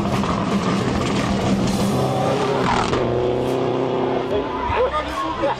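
A rally car roars past at speed along a forest stage, a loud continuous engine drone rising and falling, with voices and crowd chatter under it.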